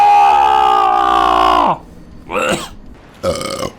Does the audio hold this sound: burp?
yes